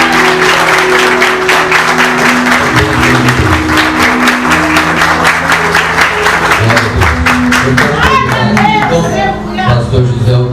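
A church congregation claps loudly and continuously while music with sustained tones plays along, the applause filling the whole stretch.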